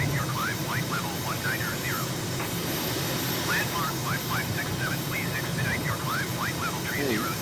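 A simulated aircraft takes off and climbs in Microsoft Flight Simulator, heard as a steady, continuous engine roar throughout, with someone talking over it.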